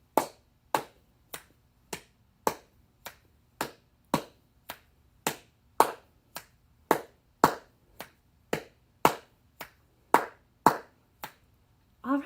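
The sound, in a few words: finger snap on beat one, hand claps on beats two and three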